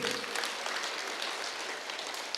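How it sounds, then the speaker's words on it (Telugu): Applause from an audience gathered for a meditation project inauguration, a quiet, even patter of clapping heard from a distance with no voices. "ఒకసారి గట్టి క్లాప్స్ కొట్టండి"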